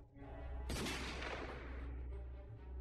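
A pistol gunshot in a film scene: one sudden loud blast with a long decaying echoing tail, set against a low steady background hum.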